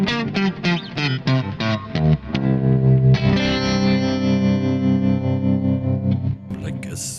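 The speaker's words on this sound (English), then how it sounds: "P90 sound with a little bit of reverb and stuff" A semi-clean P90 electric guitar tone through a Kemper Profiler with reverb, first a run of quick picked notes, then sustained ringing chords that fade out, close and loud.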